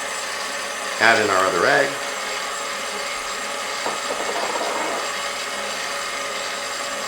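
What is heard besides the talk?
electric mixer beating keto chocolate chip cookie batter with eggs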